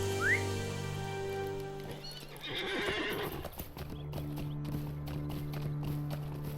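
A horse ridden in the game Lord of the Rings Online neighs, then its hooves clip-clop in a steady trotting rhythm over a sustained musical background, close and clear.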